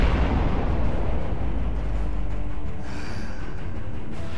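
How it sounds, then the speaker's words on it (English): Vanguard weapons fire and explode in the space game Sunrider, a loud, heavy rumbling blast that rolls on as a dense roar and slowly eases into a softer hiss. "Prepare to fire the vanguards."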